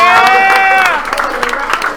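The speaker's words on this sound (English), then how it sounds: "I want a round of applause for all the new players." A crowd at a Killer Queen game night at NYU Game Center bursts into applause and cheering. A voice sounds over the start, and the clapping carries on with scattered claps and whoops.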